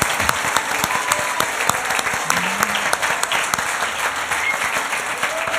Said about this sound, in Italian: l'applauso è per tutti quanti voi